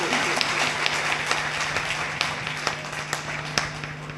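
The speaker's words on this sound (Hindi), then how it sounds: "एक बार जोरदार तालियां आपकी मौजूदगी को।" Audience applause at a poetry gathering, continuous clapping with a few sharper individual claps standing out, over a steady electrical hum from the sound system.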